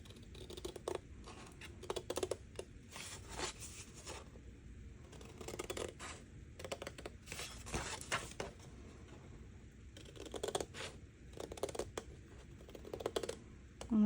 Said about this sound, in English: we're just gonna take our scissors